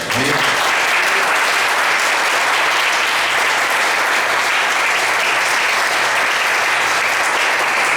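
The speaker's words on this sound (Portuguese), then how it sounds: "Você pode aplaudir Jesus?" A church congregation applauds during a sermon, sustained loud clapping filling the hall for several seconds without a break, with a few faint voices mixed in.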